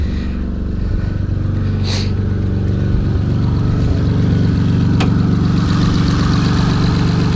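A Honda J35a7 V6 with a HalferLand stage 1 turbo block idles smoothly and steadily up close, with a constant low rumble and a couple of faint clicks over it.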